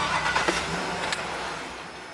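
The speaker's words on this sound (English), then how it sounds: "Start the vehicle before operating the Tommy gate." A truck engine fitted with a Tommy Gate liftgate idling steadily, with a low continuous rumble and a slight rise near the start, heard close and alone.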